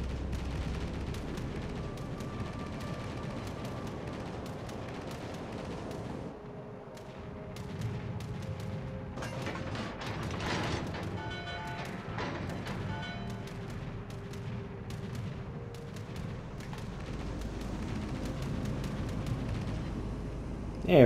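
In World of Warships: Legends, the Texas battleship's naval guns and distant incoming shells produce a continuous barrage of deep booms and rumbling blasts for about twenty seconds.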